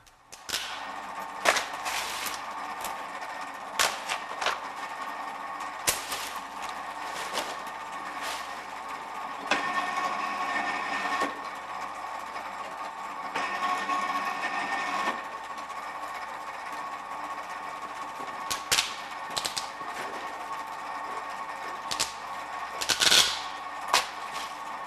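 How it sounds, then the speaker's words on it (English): A Czech-made BOBR cable insulation stripping machine processes thick cables, giving a continuous mechanical whir with repeated sharp snapping clicks scattered throughout. "This take shows the cable insulation stripping machine processing thick cables."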